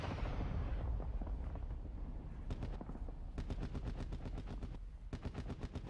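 Chopper gunner machine gun fire from a helicopter in a video game, a heavy rumble giving way to rapid bursts of evenly spaced shots that come in several volleys with short gaps.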